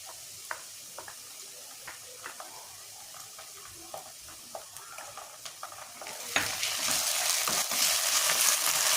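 Pre-fried masala tipped into onions frying in a pan for a jackfruit curry: light scraping stirs and taps over a quiet sizzle, then the frying jumps into a louder, bright steady hiss for the last few seconds.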